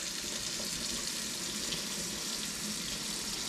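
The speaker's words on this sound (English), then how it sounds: "So I'll go ahead and dump out the last rinse." Rice rinse water is dumped out of a pot in a kitchen, giving a steady, close, rushing pour of water that stays even throughout.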